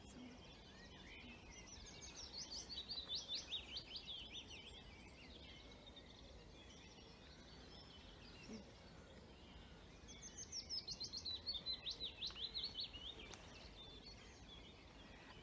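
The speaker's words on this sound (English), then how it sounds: "That's the willow warbler." A willow warbler sings two descending, sweet phrases several seconds apart in a quiet dawn chorus, faint and somewhat distant.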